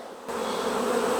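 A swarm of honey bees buzzes loudly right after a hive frame is shaken, a dense, steady drone that swells quickly and holds close by.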